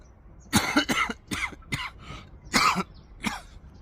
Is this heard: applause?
no